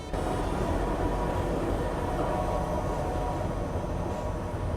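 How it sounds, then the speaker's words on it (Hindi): A delayed passenger train, an express with LHB coaches, pulls out of Rae Bareli junction station, heard from inside as a steady, loud low rumble and rolling hum that carries on without a break, with no voices. "जैसी नींद खुली ट्रेन जो थी वो रायबरेली में एंटर हो रही थी और अभी यहाँ से इसका डिपार्चर हो चुका।"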